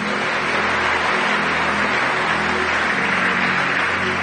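A church congregation applauds in a dense, continuous wash of clapping that fills the room at a steady level throughout, with a low hum underneath and no clear voices standing out.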